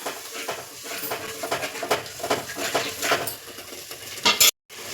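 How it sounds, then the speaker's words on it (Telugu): A spoon scrapes and clatters around a pot of tomato masala curry, mixed with ground tomato and water, in irregular stirring strokes with a faint sizzle, ending in a sharp clank and brief silence. "మళ్ళీ ఒకసారి మంచిగా కలుపుకోవాలన్నమాట."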